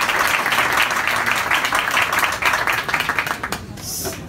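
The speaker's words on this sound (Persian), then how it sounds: "تشویق بفرمایید." Audience at a music school concert of a string, piano and drums ensemble clapping in a sustained burst of applause that thins out near the end, with a voice heard faintly alongside.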